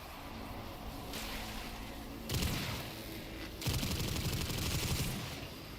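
Enemy gunfire in the video game Warframe comes in sustained automatic bursts at moderate volume, with two louder volleys over a constant background of game ambience.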